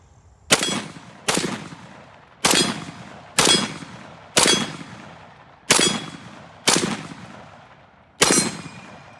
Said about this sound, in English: let us get to the fun part, the shooting part.